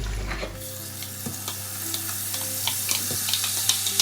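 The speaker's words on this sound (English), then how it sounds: "That is what we are going to now add inside the hot oil." Blended ingredients from a food processor hit hot palm oil for a vegan Nigerian okro soup base, setting off a steady close sizzle with scattered sharp crackles and pops after a brief low thump at the start.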